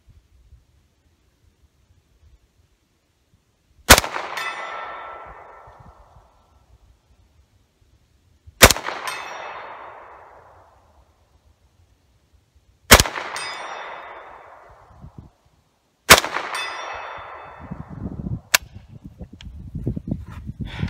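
Shots from an HK UMP ring off steel plates in four widely spaced bursts, each a sharp crack followed by a long ringing metallic clang that fades out. A fifth, quicker hit comes near the end over a low rumble.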